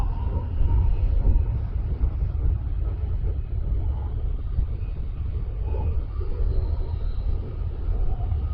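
Steady low rumble of road and engine noise from inside a vehicle while overtaking a pickup truck on a road in Indonesia, a continuous droning hum with no distinct passing whoosh.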